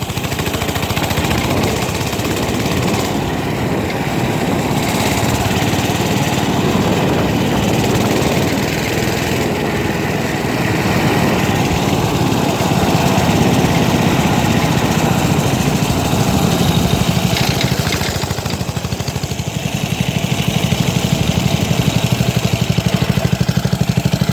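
A four-wheeler ATV engine running while driving, a loud, continuous mid-pitched drone that holds steady for the whole stretch.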